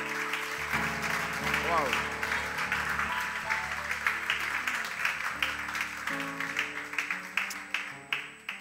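A church congregation applauds at a French-language sermon, clapping sustained under a preacher's voice and an exclamation, then thinning into scattered, distinct claps toward the end.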